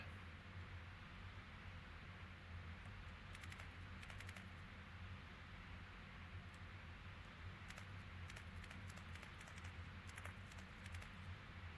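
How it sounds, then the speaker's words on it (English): Steady rain pours throughout a rainy scene in the PS2 video game Disaster Report, a constant hiss with faint scattered patter and taps, moderately loud and unbroken, with no voices. "The rain won't stop."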